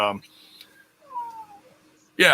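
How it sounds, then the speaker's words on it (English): A pet cat gives a brief, plaintive meow, fairly close, between bursts of a person talking at the start and end. "see, my cat's upset about that too"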